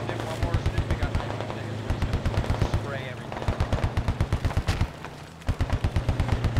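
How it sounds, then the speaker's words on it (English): A Warrior vehicle's autocannon fires in the video game Squad, pounding in rapid rhythmic strings of heavy shots, close and loud, pausing briefly between bursts over a busy battle background. "Dude, let it rip. Let it rip. You got an autocannon for a reason."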